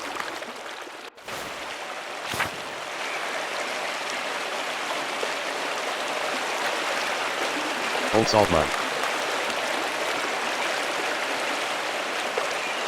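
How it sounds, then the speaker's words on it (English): A waterfall in the Pentiment game pours as a constant soft rushing hiss, with a few brief clicks and a short voice saying a place name partway through. "The waterfall is always so beautiful."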